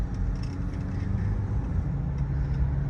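Inside a 2023 Mahindra Scorpio N accelerating on the road, a steady loud engine and road drone fills the cabin throughout, with a low hum that rises slightly toward the end and no talking.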